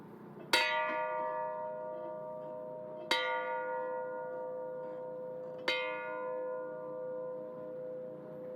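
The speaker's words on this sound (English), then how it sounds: "we request a moment of silence as we toll the bell in honor of our troops" A church bell tolls three slow, evenly spaced strokes at a high school graduation ceremony, each ringing out and fading into a long decay during a hushed moment of silence.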